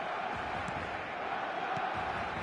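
Steady wash of a stadium crowd at an eFootball match, a constant dense roar with no breaks, heard as a distant mass of voices.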